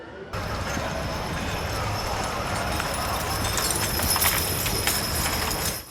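Heavy draft horses, nearly two meters tall, trot around a fair arena, their hooves thudding in a steady, continuous clip-clop close by, with a broad rumble of activity under a narrator's voice.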